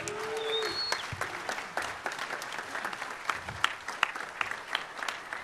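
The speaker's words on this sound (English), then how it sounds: "So please give them a round of applause." A crowd at a big band jazz concert applauds, steady clapping from many hands that stays moderately loud throughout, with a brief whistle-like tone early on.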